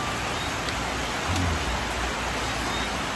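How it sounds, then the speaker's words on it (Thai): Heavy rain pours down steadily at night, a dense, continuous hiss with no breaks, loud and close, with a faint low thump partway through. "ฝนกำลังตกหนักนะครับ"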